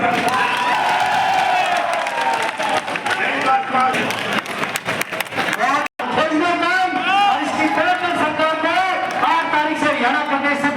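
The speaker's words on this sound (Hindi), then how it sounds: "जोरदार तालियों से स्वागत।" A large crowd at a Haryana political rally claps and cheers loudly in welcome, a dense continuous roar of applause with voices and music-like tones running through it, briefly cutting out before resuming just as strong.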